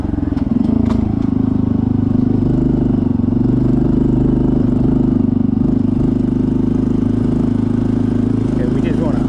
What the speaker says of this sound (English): we just want to idle up here so we don't make the monks mad at us.